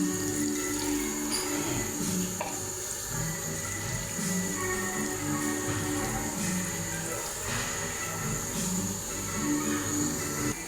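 A little water pours into a cooking pan on the stove, a steady, fairly faint watery hiss that runs unbroken for about ten seconds.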